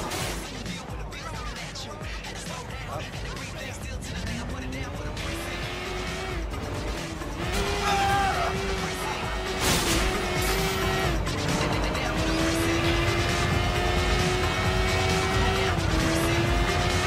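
A car in Sleeping Dogs speeds along a road, engine rising steadily through gears with tire squeals and rough road noise, loud and continuous, with a voice talking faintly under it.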